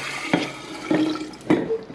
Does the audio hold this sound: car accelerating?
no